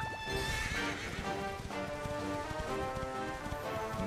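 Horse galloping with rapid clip-clop hooves and repeated neighing in Dragon Quest XI, game music playing steadily underneath throughout.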